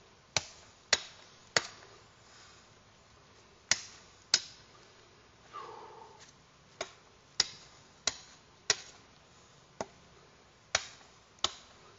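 A Cold Steel Kukri machete chops into pine 2x4 and birch limbs, producing about fifteen sharp, close wooden thwacks at an irregular pace, separated by quiet pauses.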